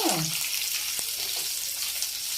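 Green chillies and dried red chillies frying in hot oil in a pan for a raw mango coconut chutney, a steady loud sizzle with a few stirring knocks, no voices.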